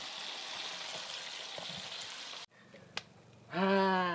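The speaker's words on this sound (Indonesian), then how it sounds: "Kita masak, kita goreng singkong dulu." Cassava frying in hot oil in a home kitchen, a steady broadband sizzle that cuts out briefly, followed by a sharp tap and then a louder, bubbling sizzle as more cassava hits the oil.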